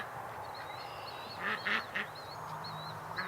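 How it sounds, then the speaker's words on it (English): Several quacks from a duck kept as a homeless-care rescue bird ring out over steady outdoor background noise, clustering loudly in the middle with softer calls before and after. "Quacking duck you hear is Maddie."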